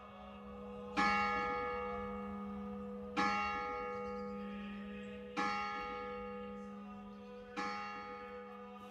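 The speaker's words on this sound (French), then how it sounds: "La cloche, juchée dans le clocher de l'église, rythme l'existence des hommes médiévaux" A church bell high in a tower strikes four times at steady intervals of about two seconds, each stroke bright and ringing with a long, slowly fading hum over a low steady drone.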